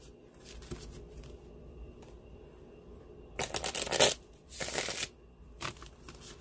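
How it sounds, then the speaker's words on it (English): Tarot cards fall and are shuffled by hand. Soft papery riffles and flutters come in a few short bursts over a quiet background. "I drop all the cards."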